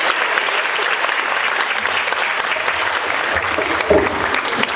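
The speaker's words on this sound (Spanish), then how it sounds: "La recibimos con un fuerte aplauso" A conference audience welcoming a speaker with dense, steady applause that fills the room, sustained evenly throughout with a faint murmur underneath.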